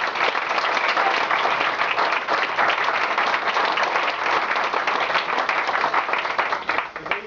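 Wedding guests give a sustained round of applause during a best men's speech, dense even clapping from many hands filling the room at steady volume throughout.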